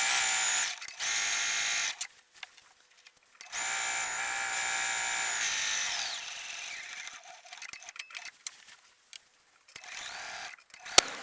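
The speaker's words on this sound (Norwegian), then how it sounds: "Jeg syr nå opp hele kanten foran" A sewing machine stitches along the front edge of a dress in bursts, running steadily for a few seconds at a time with short pauses between runs, close and fairly loud with no talking.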